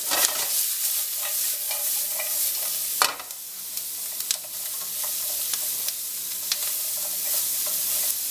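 Onions sizzle and crackle in a hot pan for Thai peanut curry, a dense steady frying hiss broken by sharp pops and scraping stirs, close up with no talk.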